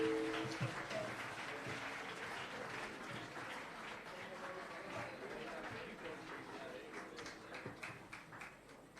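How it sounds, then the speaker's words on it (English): Audience applauding at an inter-school general knowledge quiz contest, a fairly quiet, steady patter of clapping that tapers slightly toward the end, with voices mixed underneath. "A louder round of applause, please, from the audience."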